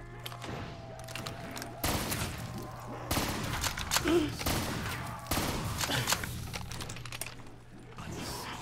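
Rapid gunfire from a gun in a Call of Duty Zombies match on a tiny map, repeated bursts of shots in quick succession over a steady background hum, mid-distance and moderately loud.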